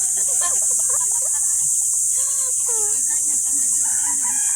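Native chicken clucks and short crowing calls at moderate distance on a farm, set against a constant high-pitched hiss of insects.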